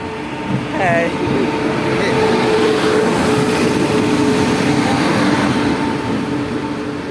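Pune Express, an Indian Railways passenger train, rolls slowly to a halt, its loud steady rumble and rail noise filling the whole clip, with a brief squeal of brakes near the start.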